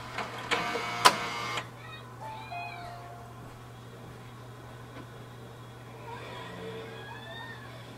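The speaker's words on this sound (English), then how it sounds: "this will take some time as it's going to automatically restart the printer" HP OfficeJet Pro 6960 printer restarting indoors, with a burst of mechanical whirring and clicks at the start, then quiet motor hums and faint electronic chirps over a low steady hum.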